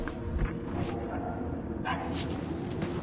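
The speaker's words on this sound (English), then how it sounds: "The baying beast is not far." A baying beast in the Guardians of the Galaxy video game gives a few dog-like yelps and whimpering barks, close and steady, over a busy game soundscape.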